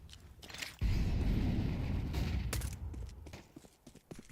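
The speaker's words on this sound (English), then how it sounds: "Flooding in, firing off their Glocks, trying to pull the rotation" Glock pistols firing in Counter-Strike on the Mirage map, a busy burst of rapid shots that starts abruptly, stays dense, then thins into scattered pops.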